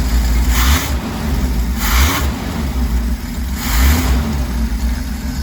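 A 1968 Chevrolet G10 van engine runs steadily at a rough idle after a cold start, its deep rumble swelling now and then as it revs slightly, close and continuous with no talking.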